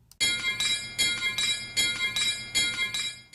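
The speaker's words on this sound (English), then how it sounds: "dirty sounding bell." A gritty, distorted bell sample used in a hip-hop beat strikes in a steady repeating pattern, each bright metallic hit ringing out and decaying before the next, loud and alone.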